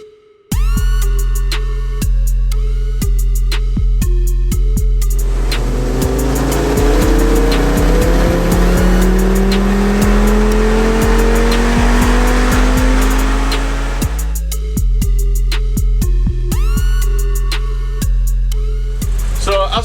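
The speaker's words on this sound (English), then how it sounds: "we have run the car up stock." An Audi RS3 8P at stock tune revs hard on a dyno, its engine note climbing loud and steady across a long pull in a workshop with music playing behind, then dropping back toward idle.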